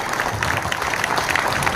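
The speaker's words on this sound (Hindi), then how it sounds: "एक बार जोरदार मोदी के लिए तो तालियां बजा दीजिए" Election rally crowd in Ward 43 breaks into loud, dense applause for Modi, a continuous wash of clapping with faint voices mixed in.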